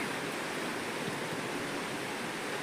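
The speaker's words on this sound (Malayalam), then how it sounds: "അപ്പോൾ ഇതാണ് നമ്മുടെ പുഴ." A river in flood rushes past with all dam shutters open, after heavy rain, making a steady, dense roar of churning water with no pauses and no voices.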